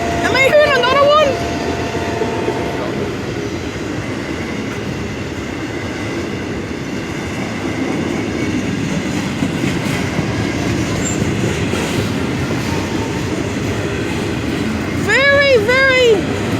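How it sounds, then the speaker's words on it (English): A train passes a road crossing, its wagons rumbling and clattering steadily and loudly, with crossing bells or horn-like tones ringing at the start and again near the end. "busy train action here today"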